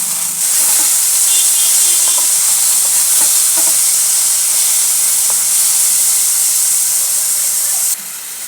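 Onion and tomato frying in oil with cumin and ginger-garlic paste for methi matar malai, a loud, close, continuous hissing sizzle with a few stirring clicks, dropping slightly in level near the end.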